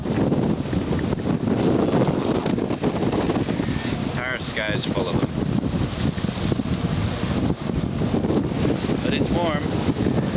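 Steady wind roars across the microphone aboard a sailboat under motor at sea near Hawaii, with choppy water and engine rumble beneath, while people talk briefly over the continuous gusty noise.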